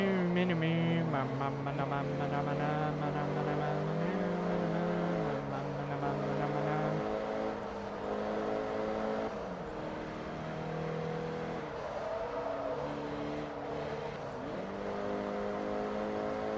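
Racing car engine from Forza Motorsport 3 during a coupe road test, a steady loud drone whose pitch climbs and drops with each gear change and shift, continuous across the whole stretch, with a voice talking over it.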